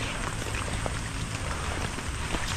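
Steady rain falls on bitter gourd (ampalaya) plants during the monsoon, a dense continuous patter of drops on leaves, close and even throughout with no voices.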